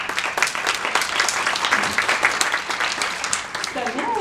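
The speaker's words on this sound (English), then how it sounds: "let's give our panel a round of applause" An audience at a panel event on women in criminal justice bursts into sustained applause, many hands clapping densely and evenly for several seconds in an indoor hall.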